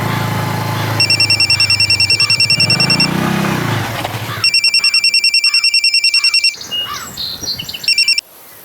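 A telephone rings in repeated bursts of fast electronic trilling, loud and close. Three ringing spells are separated by brief gaps, over a low indoor background rumble.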